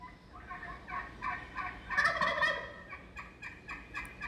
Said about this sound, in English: Now that sound of the turkey gobble can travel up to 1 mile.